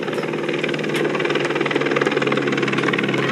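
A convoy vehicle's engine in the MyWhoosh cycling game drones steadily as it overtakes a rider, a loud, continuous rumble with a rapid pulsing vibration and no talking.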